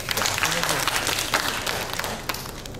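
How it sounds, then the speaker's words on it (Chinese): An audience applauding after a student introduction, with a brief burst of clapping from a crowd, moderately loud and mixed with voices. "那大家给他一点掌声。"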